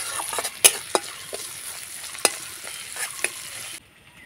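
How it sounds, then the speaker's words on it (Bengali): Grated ginger and chopped green chilli frying lightly in a pan with five-spice tempering, giving a steady soft sizzle broken by several sharp clinks of a spatula against the pan before it cuts off. "আদা লঙ্কাটা হালকা আমি ভেজে নেব।"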